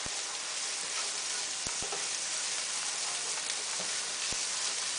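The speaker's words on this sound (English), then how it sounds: "I'm going to stir that around." Garlic frying and being stirred in a pan with browned onions: a steady close sizzle throughout, with a few sharp clicks of the spoon against the pan.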